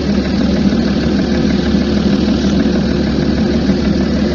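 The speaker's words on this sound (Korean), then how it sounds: "BMW 디젤 엔진 소리입니다." A BMW diesel car engine runs steadily at idle, a loud, constant low rumble with an even throbbing texture and no voices.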